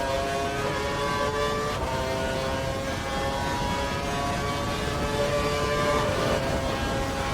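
Formula 1 race car engines screaming at the 2012 Chinese Grand Prix in a racing game, a steady high-pitched whine held loud and close throughout.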